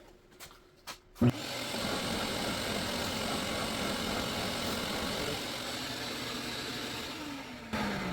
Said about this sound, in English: I just gotta sand that little burnt spot off